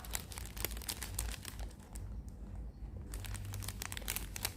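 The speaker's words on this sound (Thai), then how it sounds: "นำแซนด์วิชของเรานะคะใส่ลงไปในถุงแบบนี้เลยนะคะ จากนั้นก็พับ" A plastic bag crinkles and rustles steadily up close as a bologna and fried egg sandwich is slipped inside and the bag is folded, with sharp crackles throughout and a brief quieter pause midway.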